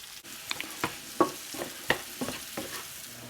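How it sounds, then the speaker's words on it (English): Mushrooms sautéing in butter in a pan for a low-carb Salisbury steak, a soft steady sizzle broken by repeated scraping stirs and light clinks spaced through the clip, with no talking. "Add our mushrooms. And I'm going to saute these for a while."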